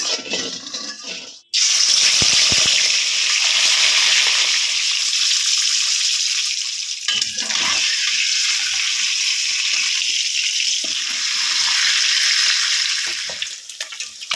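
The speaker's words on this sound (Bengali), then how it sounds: "এই তেলের মধ্যে মাছগুলো ভেজে নেব।" Pieces of katla fish hit hot, lightly salted oil after a brief quiet moment. A loud, steady hiss and sizzle follows and fills the rest of the time at close range.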